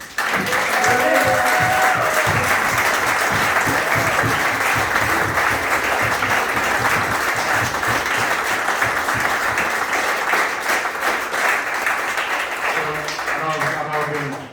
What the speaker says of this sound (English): Can we please have a round of applause for my awesome brother, Terry.